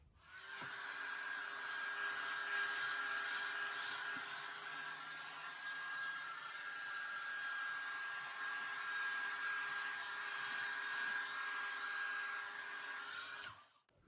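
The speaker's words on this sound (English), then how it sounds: "I'm going to blow all the white paint over these colours and then blow it out in a" A hair dryer blows acrylic paint across a Dutch pour painting, a steady close whooshing hum that runs continuously before switching off at the end.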